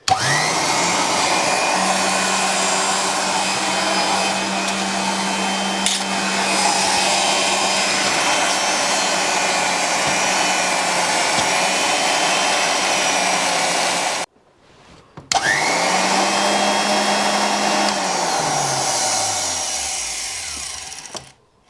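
A Wolf tool post grinder's electric motor runs at a steady loud whine, cuts out briefly, then powers up again and winds down with a falling hum at the end.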